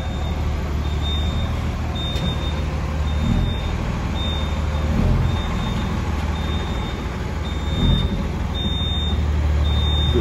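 A truck backs into a parking spot at a produce market, its reversing alarm beeping steadily in a regular rhythm over a loud, continuous engine rumble.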